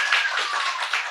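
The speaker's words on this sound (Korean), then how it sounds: "박수 쳐주세요." A church congregation claps in a short, dense burst of hands at close range, continuous and fairly loud for about a second.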